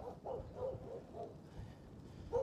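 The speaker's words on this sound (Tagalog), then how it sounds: "May aso. Buti nakatali." A large leashed dog barks repeatedly in a steady series of faint, distant yaps outdoors along a rural cycling route in South Korea.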